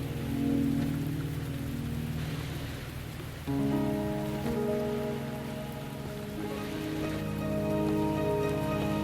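Rain falls steadily in the video game Wuthering Waves, a constant wash of patter layered with a soft tonal music bed, with no talking.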